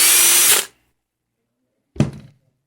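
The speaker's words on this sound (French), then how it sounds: "On va commencer par faire des trous de ventilation, très important." Power drill boring ventilation holes in a video game console case: a loud whirring burst that stops abruptly, a pause of silence, then a short thunking hit with a brief rattle.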